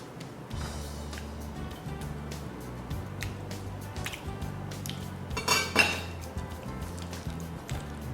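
Cutlery scraping and clinking against a plate of Indomie noodles topped with poached egg and steak, repeated soft taps and scrapes with a louder clatter near the end, over low background hum; no talking.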